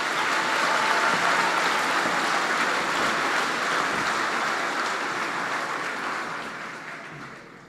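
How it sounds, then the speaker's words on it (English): A large crowd at a school district high school graduation ceremony gives the graduates a long, steady round of applause, a dense, even wash of clapping that gradually thins and fades toward the end. "let's have another round of applause for all of our graduates"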